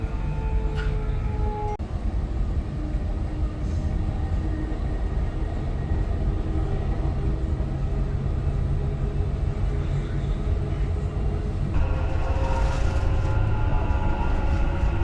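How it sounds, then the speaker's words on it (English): A metro train rumbles steadily along the track, a constant loud low roar with faint whining tones and a brief shift in pitch near the end. "So the train is going to stop in 5, 4, 3, 2, 1."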